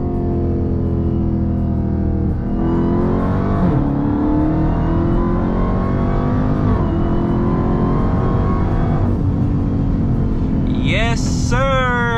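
A 2021 Dodge Charger Redeye Widebody launches with launch control, its engine roaring loud and close throughout as the pitch climbs and drops through several gear shifts over twelve seconds.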